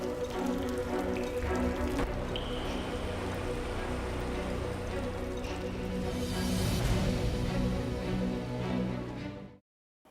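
Heavy, steady rain with strong winds and hail pours and patters densely on surfaces for about ten seconds, loud and continuous without pauses, then cuts off abruptly.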